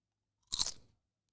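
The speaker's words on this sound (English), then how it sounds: "Just throw it in your mouth and just bite down." A single sharp, close crunch as a potato chip of medium thickness is bitten, fading quickly into a moment of chewing, set against near silence.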